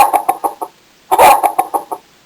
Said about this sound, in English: Penny the hen comes along